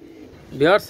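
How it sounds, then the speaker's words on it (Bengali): Pakistani teddy pigeons give a short, close coo, a single rising-and-falling call of under a second over faint background noise. "ডাবওয়ালা কবুতর মাশাল্লাহ"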